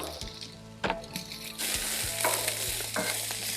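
Rice and onions fry on a Blackstone griddle for chicken fried rice, a steady close sizzle that swells louder partway through, with a few scraping and tapping knocks of a utensil on the metal surface.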